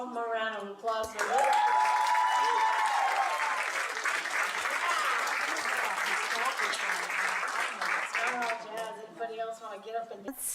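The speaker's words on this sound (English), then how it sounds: "How about one more round of applause for" Audience applause at an arts and humanities awards ceremony: sustained dense clapping with a few whoops swelling over music, while a voice speaks briefly at the start and end.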